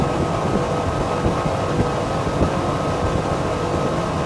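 A Flipper 900 day-boat runs flat out at 50 knots, a loud, steady roar of outboard engine mixed with rushing wind and water noise, continuous and close with no talking.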